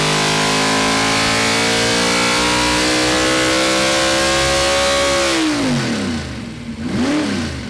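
A Holden naturally aspirated V8 race engine revs hard and loud, holding a steady high scream before dropping off and blipping again near the end, with no voices.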